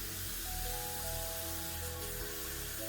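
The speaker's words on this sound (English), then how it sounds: "and then rinse it" Running water rinsing kinky curly hair during a co-wash, a steady close spray with no break for the whole stretch.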